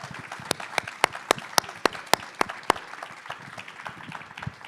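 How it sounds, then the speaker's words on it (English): Modest applause for panelists at a climate education event, a light patter with several distinct sharp claps standing out near the listener, thinning toward the end. "I'd like a big nor'easter round of applause for our panelists"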